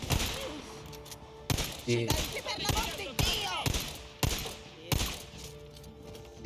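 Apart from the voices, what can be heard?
gunfire from basic weapons in video game Days Gone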